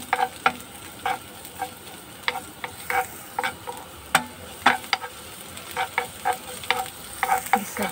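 Chopped garlic sautés in olive oil in a pan, a soft steady sizzle broken by sharp, irregular clicks and scrapes of a utensil stirring against the pan, close up and without talk.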